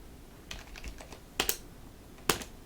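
Keys tapped on a computer keyboard in a Linux terminal, a few scattered close clicks followed by two sharper keystroke bursts, no talking.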